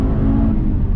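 An Audi TT RS with a manual transmission and a 360-horsepower turbocharged five-cylinder drives on an open road, its engine a loud, close, steady rumble through a brief downshift.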